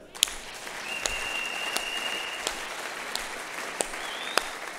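A church congregation applauding, heard as steady, sustained clapping that carries on for several seconds, with occasional sharper claps and a thin electronic whine running through it.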